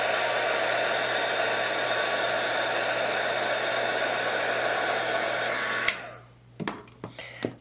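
Heat tool blowing steadily to melt embossing powder for wax seals, a loud continuous whoosh that cuts off abruptly near the end, followed by a few small clicks and handling sounds.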